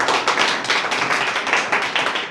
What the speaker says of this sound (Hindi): ताली बजा दो भैया के लिए।